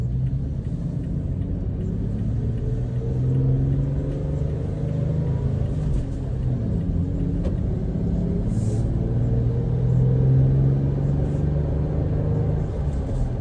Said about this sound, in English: Love listening to that V6